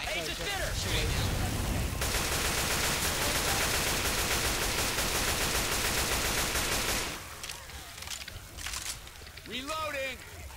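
Sustained automatic gunfire from the zombie shooter Left 4 Dead 2 rattles loudly and continuously for several seconds, then cuts off and gives way to voices talking over quieter game sounds.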